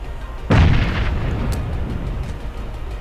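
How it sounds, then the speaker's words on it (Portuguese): A bomb explodes in the video game PUBG: one sudden, loud, close boom with a heavy low thump, followed by a long rumbling decay that fades over a few seconds. "Vamos lá atacar a bomba nele."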